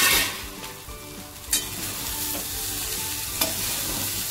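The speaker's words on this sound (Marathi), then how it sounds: "त्याच तुपात आता आपण काबुली टाकूया" Chickpeas fry in hot ghee with a steady crackling sizzle, close and loud, broken by a couple of sharp clicks of stirring against the pan.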